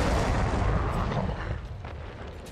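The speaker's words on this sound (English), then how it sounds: "Hold your ground and blow them zombies up with conveniently placed red barrels." A red explosive barrel bursts in Resident Evil 3 with a loud, close, deep boom that rumbles and fades over a couple of seconds, followed by faint debris.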